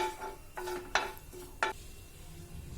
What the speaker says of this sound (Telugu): ఇప్పుడు ఒక అర స్పూన్ జీలకర్రను వేసి ఫ్రై చేసుకోవాలి.